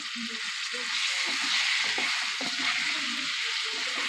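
Chopped tomato frying in a pan gives a steady, loud, close sizzle with soft scraping and clatter underneath, and no voices.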